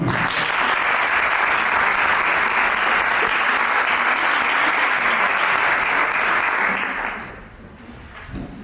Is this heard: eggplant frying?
no